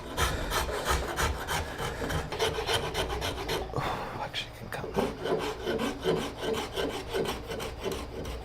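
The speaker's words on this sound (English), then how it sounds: "with the razor file, I can come in here and really get this smoothed out to where I want it" A razor file rasps back and forth over the wood of a handmade acoustic guitar in a garage workshop, in steady close repeated strokes with a brief pause midway.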